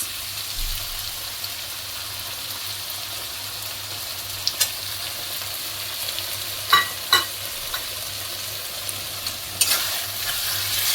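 Vegetables stir-frying in a pan as chilli, soy and tomato sauces go in, a steady broad sizzle running throughout with a few sharp clinks and scrapes of a utensil against the pan, close and fairly quiet, no talking.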